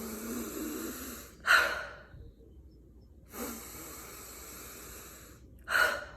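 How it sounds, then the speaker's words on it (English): Two deep breaths, each a slow inhale and exhale, taken calmly for relaxation; the breaths come close and soft, separated by quiet pauses, with a sharper intake near the start and end. "I inhale and exhale twice. I take 2 deep breaths"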